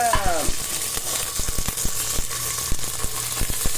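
Cumin and mustard seeds sizzle and crackle in hot oil while barley upma is being cooked, giving a steady close frying hiss with sharp popping clicks throughout and no talking.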